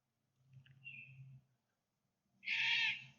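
Two bird calls ring out outdoors, a softer, lower call followed after a pause by a louder, brighter one, with no talking.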